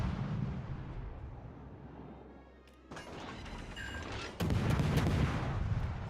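High-explosive shells from a destroyer striking around a ship in World of Warships: Legends, heard as a quiet rumble that gives way to two loud crashing impacts, the second heavier and sustained.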